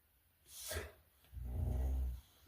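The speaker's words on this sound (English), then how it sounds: "Excuse the dog, he thinks he's a watchdog." A dog close to the microphone gives a short sharp snort, then a longer low growling rumble, with quiet room tone around it.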